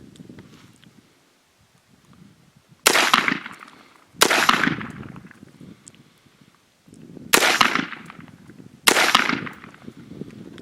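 Rifle shots fired two rounds per target using a holographic sight on a range: four sharp reports in two pairs, each pair spaced about a second apart, with quiet rustling between.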